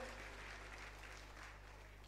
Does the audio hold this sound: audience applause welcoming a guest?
yes